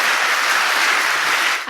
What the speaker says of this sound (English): let's give a last applause for all those wondrous women that were all on stage here